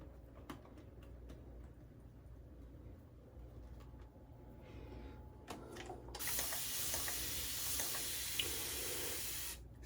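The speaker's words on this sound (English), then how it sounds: "each squirt is 1 ml of water" Several small squirts of water added to a bowl of shaving soap, soft hissing spurts close by over a quiet room, building toward the end, with no talking.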